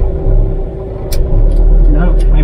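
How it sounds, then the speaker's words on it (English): Ford Cortina Mk3 engine idling as reverse gear is selected, a loud close low rumble that dips and swells, with brief clunks and knocks from the gear shift riding over it. "the car slowly works its way back to life"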